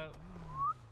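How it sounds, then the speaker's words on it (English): A person gives a short rising whistle, a single clear tone sliding upward, heard close over a low hum of background voices. "Bro, don't whistle at me."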